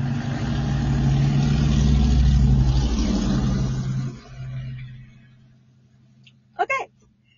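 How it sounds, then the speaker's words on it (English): A car with a very loud engine or exhaust system passes along a street, a strong low rumble that swells and then fades as it drives away, followed by a short burst of another sound. "a car about to drive down the street and it has a very, very loud dual system or engine"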